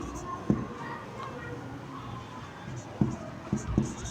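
Pen writing a sentence on a board or paper during a Hindi grammar lesson, a few sharp taps and scratches scattered across a quiet room tone, with no talk in between.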